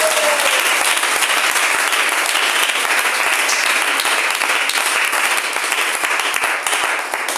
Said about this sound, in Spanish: Démosle palmas al Señor en esta hora.